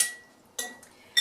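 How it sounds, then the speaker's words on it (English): A metal spoon chops soft herring pieces against a dish, giving three sharp clinks spaced about half a second apart, close and alone. "I'm just taking the pieces of herring and I'm chopping them up into just smaller pieces"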